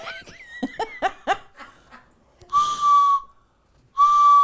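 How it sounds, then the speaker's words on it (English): A starter whistle blown in two long, loud, shrill blasts with a short gap between them, following a few seconds of soft laughing and giggling. "This one was one of her starter whistles."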